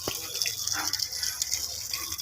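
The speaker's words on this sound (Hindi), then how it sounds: "तो फटाफट मैं देता हूँ इनको पहले पानी" Water poured from a container onto potted plants that have wilted and lost their green colour, a steady close splashing and trickling outdoors in the evening, with no voices.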